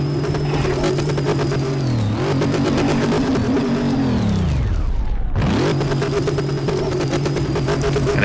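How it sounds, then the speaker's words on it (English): A car's engine in Car Mechanic Simulator 2018 revs hard while burning out on dirt, a loud continuous drone that swoops down in pitch, cuts out briefly, then climbs and holds a steady high roar. "it really shouldn't be burning out like this on the dirt"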